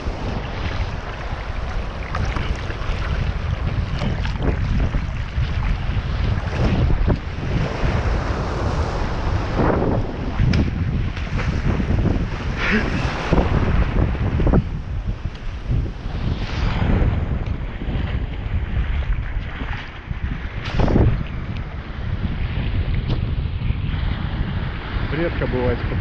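Waves and strong wind on the Barents Sea heard from aboard a fishing boat, a constant loud roar of wind buffeting the microphone with surging water and slapping waves throughout.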